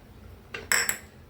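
Chopped tomato drops into a pan while making a quick, nutritious breakfast with egg, carrot and onion, giving a brief clatter and a couple of sharp clinks close by, with no talking.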